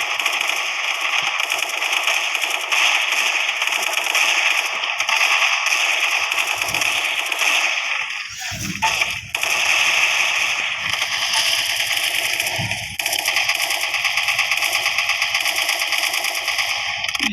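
Dense, continuous rapid-fire gunfire from a video game, including double pistols, loud and sustained, with a few heavier bursts and brief pauses in the middle.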